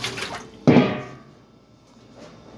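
Water is drawn in a basement to fill the dogs' water, with a brief splash and pour near the start that trails off into soft drips.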